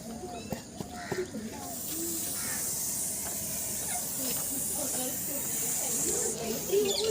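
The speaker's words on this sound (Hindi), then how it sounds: "अब इस सांप की फुफकार सुन सकते हैं आप" A large Russell's viper found in a bathroom hisses with a sustained airy breath, faint and close, while someone talks over it.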